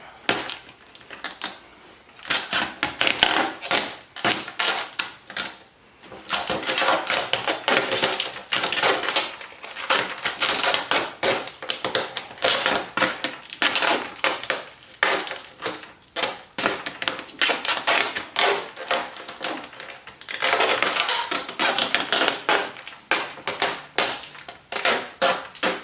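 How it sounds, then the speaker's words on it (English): Duct tape being pulled off the roll and wrapped onto a Harbor Freight dust collector fitting, a dense, continuous crackling rip that carries on loudly for nearly half a minute. "we'll duct tape this guy on here just to see if we can get it to work"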